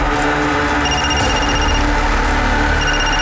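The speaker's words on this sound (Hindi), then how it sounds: "फोन है सर" A telephone rings in a steady electronic trill, loud and continuous, over a constant background hum with no talking.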